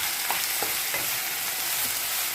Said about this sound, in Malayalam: എന്നിട്ട് നമ്മൾ ഇറച്ചി അടുപ്പത്തിട്ടാണ് അത്താഴത്തിലേക്ക് പൊരിക്കുകയാണ് കേട്ടോ.